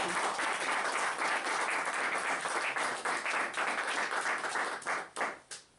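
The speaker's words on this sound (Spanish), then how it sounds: "Un aplauso, damos la bienvenida" A studio audience welcoming a guest to a talk show breaks into dense, steady applause that runs several seconds before tapering off into a few last claps.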